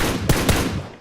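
Two sharp, loud gunshots from a weapon in the battle royale game PUBG, close together within half a second and each followed by a short ringing tail, with no talk over them.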